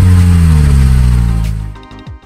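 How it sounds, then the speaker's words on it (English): Car engine starting after a jump start from a JF.EGWO 3000A jump starter pack, running loud with a steady rumble, then cutting off and sputtering into quiet with a few faint knocks. "And then, start the vehicle."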